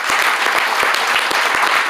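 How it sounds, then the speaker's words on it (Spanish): A church congregation applauds during a service, a dense continuous clatter of many hands clapping close by, steady for about two seconds. "precio de un aplauso al Señor"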